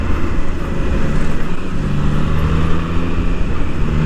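A Triumph Trident 660 motorcycle riding on a road toward Old Mussoorie Road near Dehradun gives a loud, steady engine drone with heavy wind rush close to the rider, unbroken and with no talk.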